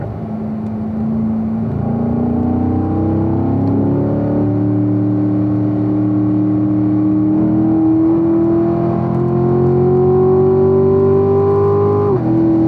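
A race car engine on a lap of Spring Mountain Raceway, loud and close, drones steadily and climbs in pitch as it accelerates, with a brief dip at a gear change before rising again, heard alone without talk.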